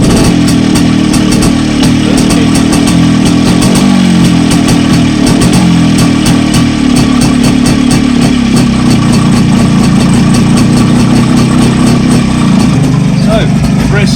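A MZ TS125 two-stroke motorcycle engine fires up and settles into a loud, close, steady idle with rapid popping exhaust pulses and a slight rise in revs near the end.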